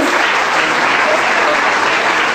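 Thick, continuous clapping from a large crowd at an award ceremony, loud and even throughout the short stretch with no voices rising above it.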